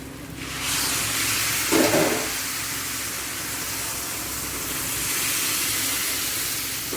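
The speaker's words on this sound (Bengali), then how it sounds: "এখন আমি জল দিয়ে দেব" Water poured into a hot pan of chickpea masala bursts into a loud, rushing hiss of steam and sizzle that holds steady and broad for several seconds, close up.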